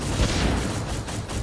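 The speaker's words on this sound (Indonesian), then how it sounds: "Lah kok meledak sih?" An explosion in the Animal Revolt Battle Simulator video game, a broad rumbling blast with low booming energy that fills about a second and a half without any talk.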